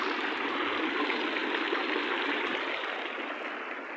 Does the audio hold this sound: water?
yes